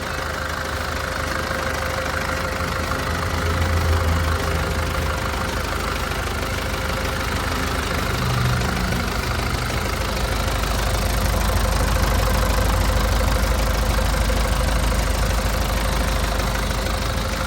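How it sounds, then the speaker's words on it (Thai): The diesel engine of a Tadano GR-120N-1 crane truck idles steadily nearby, a low, even rumble with a faint knocking texture that holds for the whole stretch. "การทำงานของเครื่องยนต์ของเขานะครับก็ทำงานได้แน่น"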